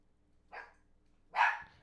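Two short, sharp dog barks, the second louder and fuller, spaced apart with quiet between them, from a moderate distance.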